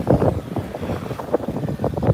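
A sailboat under way in a strong wind, with loud gusting wind buffeting the microphone and water rushing close by the hull, continuous and rough.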